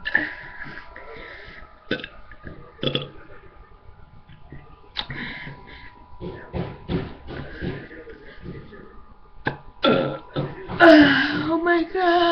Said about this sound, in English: Okay, back to burping.